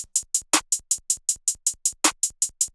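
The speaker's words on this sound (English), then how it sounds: "you have 2-step hats with those snares that hit on the third beat of every measure." Trap beat programmed in FL Studio, with steady 2-step hi-hat ticks running throughout and two sharper snare hits landing on the third beat of each measure.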